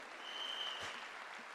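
Audience at an Amway seminar applauds its Diamonds: a short burst of dense, steady clapping from a crowd, fairly loud, with no talk over it.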